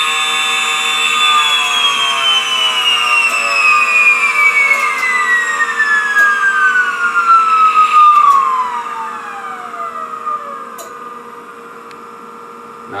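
A small electric motor turning at roughly 50,000 RPM on 49 volts and under 100 watts gives a loud, steady high whine. The whine glides gradually lower in pitch, then settles into a quieter constant hum, with no voices.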